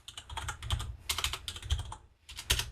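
Bursts of typing on a computer keyboard as a git command is entered in a terminal, with close, irregular clicky keystrokes in several quick runs and short pauses between them.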